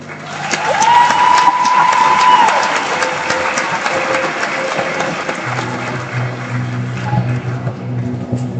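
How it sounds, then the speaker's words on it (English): Crowd applause and cheering fill a large space at a high school graduation ceremony, with a brief whistle-like tone early on and scattered voices underneath. "Rousing round of applause again."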